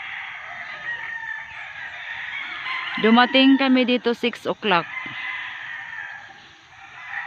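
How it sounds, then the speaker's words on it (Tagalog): Several roosters crow loudly and close on a farm at Mount Banahaw in Dolores, Quezon Province, over a steady background of rural ambience, while someone speaks briefly under the calls. "narinig nyo yung mga kababayan, yung mga mga manok, andoon, oh. Ang daming manok, oh."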